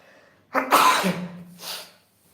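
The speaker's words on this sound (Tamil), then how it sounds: "தும்மல் வருது" A single loud, close sneeze bursts out with a sharp intake, then trails into a softer breathy exhale. It comes during a live stream from a cold, snowy setting.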